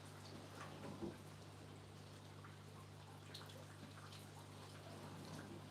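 Rain patters softly on a planted aquarium or terrarium setup, a faint steady wash of drips with a low electrical hum underneath and one slightly louder drop.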